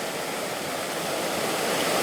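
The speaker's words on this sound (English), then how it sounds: "Alright, so right there's the waterfall." A waterfall near Clarkson Covered Bridge outside Cullman, Alabama roars as a loud, dense, unbroken rush of falling water, close by and filling the whole scene with no voices.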